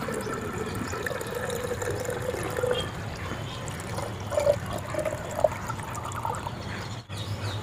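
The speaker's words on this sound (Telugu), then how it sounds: "ఇదంతా పౌడర్ అంతా కలిసేలాగా వాటర్ని అయితే పోస్తున్నాను నేను" Water pours steadily into a jar holding powder for homemade organic liquid fertilizer, a continuous low gurgle and trickle with small splashy surges, fairly quiet and close.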